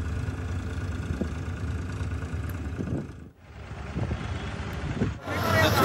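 A tractor engine chugs along steadily during an election campaign ride in Chhattisgarh, a continuous low running drone that briefly dips before resuming, with faint voices around it.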